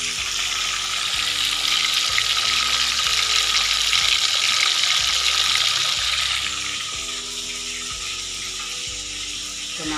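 Fish frying in a hot pan, a loud, steady crackling sizzle with a faint background hum, no voices over it.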